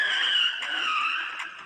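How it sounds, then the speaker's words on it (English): Tires of a Porsche 911 Turbo squeal and skid during wheel spin, a sustained loud screech that wavers in pitch over nearly two seconds. "How do you get wheel spin on the Porsche 911 Turbo?"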